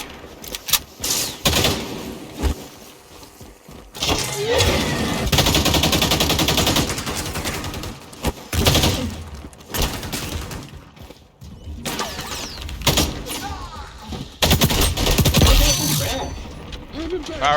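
Video game gunfire from a weapon with an extended magazine, long loud sustained bursts separated by short pauses, with crashes and mechanical clatter, and someone talking over parts of it.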